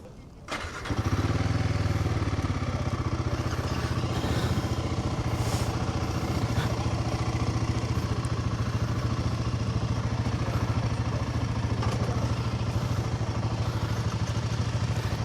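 A Royal Enfield Guerrilla 450 motorcycle starts up and then runs with a steady, close engine drone and wind rush throughout the ride.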